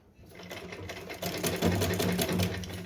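A sewing machine stitches frills onto a small Laddu Gopal dress, its motor whirring steadily and close up, building slightly in loudness over a few seconds with no talking.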